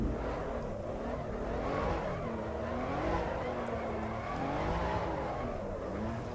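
A BMW M4 drifting in the Assetto Corsa EVO racing game, with a steady engine drone and wavering tire squeal that rise and fall continuously throughout at an even loudness.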